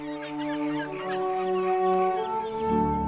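Seabirds gathered in breeding colonies on islands off the Peruvian coast call in a dense chorus. Many overlapping, clucking, harmonic cries rise and fall together at close range.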